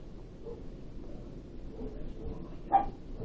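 A dog gives one short, faint bark or yip near the end, standing briefly above a low, steady background hum with no talking.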